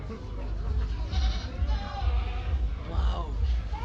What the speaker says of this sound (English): he's the coolest goat here